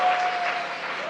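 An audience at a college event in Tiruchengode breaks into a short, loud burst of clapping that lasts about a second.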